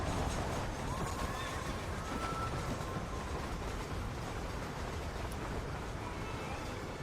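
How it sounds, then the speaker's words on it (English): A horse in the Red Dead Redemption video game neighs with hooves clip-clopping, set against a dense, steady rumble of ambient game noise that runs throughout. "I slowed and stopped my horse."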